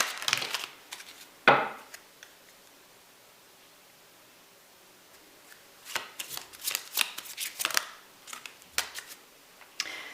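Tarot cards being shuffled by hand in bursts, with a sharp riffle near the start and a run of quick papery flicks and slaps later, close and fairly quiet, with no talking.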